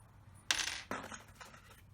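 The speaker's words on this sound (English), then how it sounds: "Okay, we'll take the short screws out." Small metal screws from a Lee Double Disk reloading kit clink as they are taken out and dropped, making two bright metallic taps followed by faint rattles in a quiet room.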